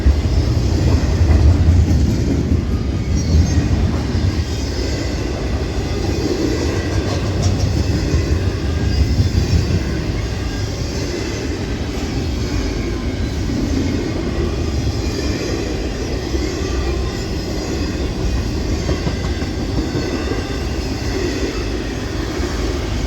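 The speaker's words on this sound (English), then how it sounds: "He had 3 locomotives on the front." A train hauled by three locomotives rumbles past close by, with a loud, steady roar of engines and wheels holding for over twenty seconds without speech.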